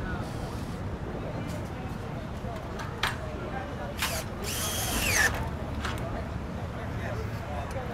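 A SkyDrill drilling tool installing a beam clamp overhead from the floor, heard as a few short whirring bursts of the motor over a hum of room noise, moderately faint.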